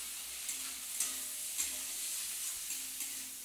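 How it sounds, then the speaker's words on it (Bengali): Onion and garlic frying in plenty of oil for an egg curry give a soft, steady sizzle. A few light stirring scrapes come at roughly even intervals, fairly quiet and with no voices. "এর মধ্যে আগে দিচ্ছি একটু পেঁয়াজ"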